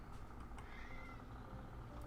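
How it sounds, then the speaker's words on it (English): A cat meowing indoors, a faint, drawn-out tonal cry heard against low background noise. "Why are you meowing?"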